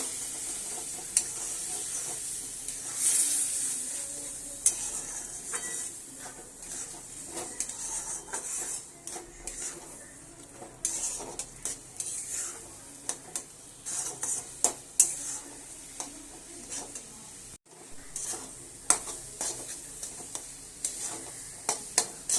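Water is poured bit by bit into semolina cooking in a pan while it is stirred, producing a bright bubbling sizzle with frequent scraping and clinking of a spoon against the pan, steady and close, no voices.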